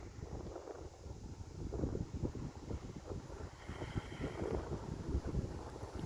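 Wind gusts buffet the microphone in low, rumbling bursts, with a steady roar behind them and no voices.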